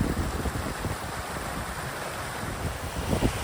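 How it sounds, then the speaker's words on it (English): A large flow of water pours out of rock onto a riverbed, giving a continuous broadband rushing roar that stays steady and close throughout, with wind buffeting the microphone. "that's quite a big amount of water just pouring out of the rock there onto the riverbed"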